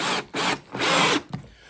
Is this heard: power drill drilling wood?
yes